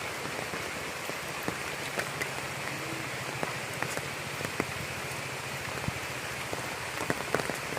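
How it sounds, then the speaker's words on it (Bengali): Steady rain falls on a rural village scene, a continuous even hiss with scattered sharp drops tapping nearby surfaces, heard alone without talk. "যে বৃষ্টি নামছে রে"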